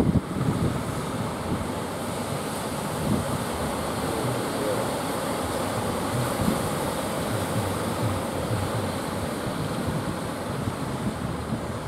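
Strong west wind blows over the sea at Puger, a continuous rushing roar buffeting the microphone amid broad surf noise, loud and unbroken throughout.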